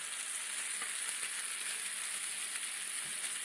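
Potato pieces and titari greens fry in a pan with garlic, giving a steady, close, even sizzle with no voices over it.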